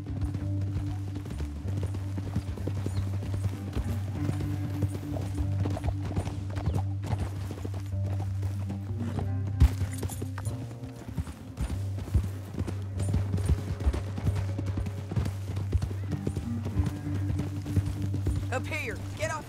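Rhythmic clip-clop of horse hooves at a steady pace in Red Dead Redemption 2, over a low droning background, with occasional louder thuds.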